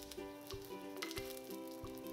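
Ginger, scallion whites and garlic sizzle in a spoonful of light olive oil in a smoking-hot iron wok over high heat, a close, crackling hiss with repeated pops over a faint steady tone.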